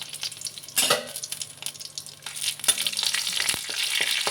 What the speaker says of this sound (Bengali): কড়াইয়ে সর্ষের তেল দিয়ে পাঁচফোড়ন দিয়ে দিয়েছি।